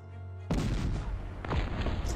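Cannon artillery fire in the WWII strategy game Sudden Strike Forever: a sharp boom that erupts suddenly, then a second blast a second later, loud and reverberant with no talk.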